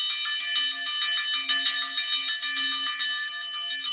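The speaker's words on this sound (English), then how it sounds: "So ring the bell." A bell rung to open a live show, sounding as a steady series of bright, ringing strikes with sustained metallic overtones, repeated rhythmically at close range with no talking over it.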